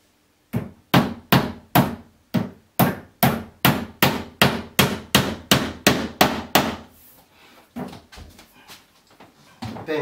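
Steady series of about fifteen loud, sharp hammer knocks on flat pack furniture being assembled at home, evenly spaced, then a few lighter scattered taps as the hammering winds down.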